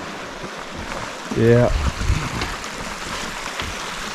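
A clear mountain brook trout stream flows with a constant soft rushing wash beside the Blue Ridge Parkway, as someone speaks briefly over it.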